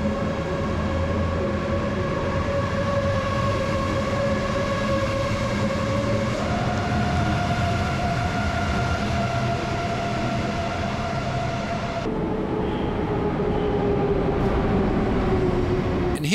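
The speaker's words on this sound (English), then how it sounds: "Here's what looks like a Siemens Velaro ICE set leaving from the opposite platform." A Siemens Velaro ICE high-speed electric train pulls away from a platform, its motors whining in steady rising tones that step up in pitch, with a rumbling rolling noise underneath.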